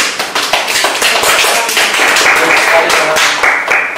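An audience applauds at an Indonesian civil service academy event, a dense, loud, continuous wash of many hands clapping with sharp individual claps near the microphone, plus a few voices underneath.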